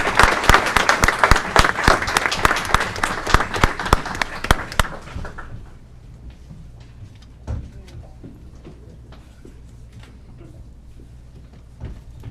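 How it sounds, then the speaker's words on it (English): A round of applause at an Aurora city council meeting, a brisk burst of many hands clapping for about five seconds that then stops abruptly, leaving a quiet room with faint scattered knocks and shuffles. "Let's give him another round of"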